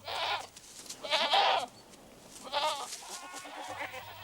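Goats roaming loose in a Madagascar forest bleat three times in a row, each call a wavering, moderately loud cry with short pauses between.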